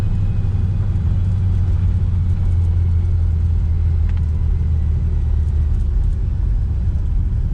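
A 1966 Chevy Nova with a 327 V8 rumbles steadily while driving, a loud, deep, continuous engine drone heard from close by inside the car, with no speech.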